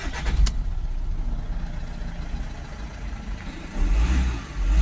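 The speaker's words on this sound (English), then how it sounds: "Let's start the vehicle back up again." A car engine cranks and starts with a sharp burst, settles into a steady idle, then rumbles louder near the end, close and fairly loud with no one speaking.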